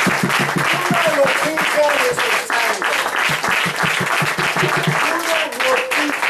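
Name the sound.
church congregation applause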